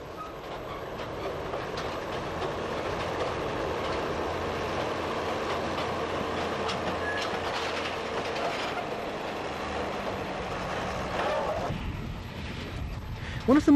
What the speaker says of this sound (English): a wagon laden with track panels is propelled cautiously across the Shannon Viaduct